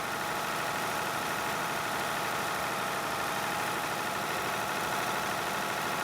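A tractor engine in Farming Simulator 22 drones steadily as it labours up a slight hill with some wheel spin, a constant mid-pitched engine hum that runs unbroken with no talk over it.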